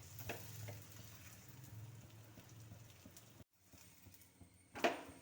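Aloo paratha sizzling quietly in an oiled pan, soft crackling frying with a short gap and a sharper scrape or flip near the end.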